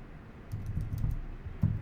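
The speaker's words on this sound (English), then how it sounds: "let's just go ahead and start typing in a word that we know is incorrectly spelled" Typing on a computer keyboard, a quick run of soft, close clicks and taps with a slightly louder keystroke near the end, no voices.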